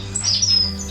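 Finches in a home bird room give a brief, bright chirp close by over a steady low household hum.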